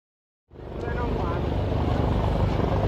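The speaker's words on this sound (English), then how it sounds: "The helicopter you see today is one of the helicopters of the Ghana Air Force. It is called the Z9." A Ghana Air Force Z9 military helicopter, Chinese-made, starts abruptly after half a second of silence, then a loud, close, steady rotor and turbine roar holds through the rest with a faint high whine.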